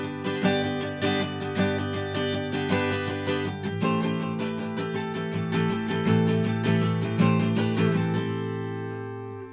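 Acoustic guitar strums and picks a verse passage, playing a steady rhythmic run of ringing chords with an open low sixth string droning beneath, close and clear with no voices.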